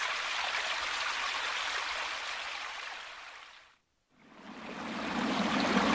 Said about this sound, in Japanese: マンホールの下の川だね 昔は地上を流れてたのにね